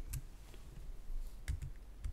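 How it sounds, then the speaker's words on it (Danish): Keyboard typing while adding a note in a TI-Nspire calculator application: a few scattered key clicks in short bursts, fairly quiet and close, with no talking. "og skrive lidt tekst."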